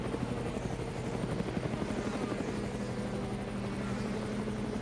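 A helicopter flies over a racing circuit during a DTM touring car race at Zandvoort, its steady rotor chop thudding continuously and loudly throughout.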